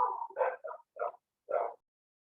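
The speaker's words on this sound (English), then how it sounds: "my dogs are going crazy in the background" Dogs bark in a short indoor burst, several yaps and barks in quick succession trailing off into silence, fairly near and not covered by any talk.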